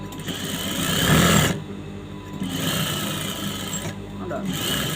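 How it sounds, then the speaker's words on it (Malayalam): A sewing machine stitches the lining into the neck of a chudithar top, a steady mechanical whirr in two bursts broken by short pauses, close and moderately loud with no talk over it. "നമ്മൾ ആ ലൈനിങ് കറക്റ്റ് ഷേപ്പിൽ തന്നെ സ്റ്റിച്ച് ചെയ്ത് വിടണം"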